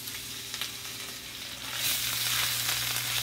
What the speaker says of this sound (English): Sizzling and popping, and that's what it should be doing.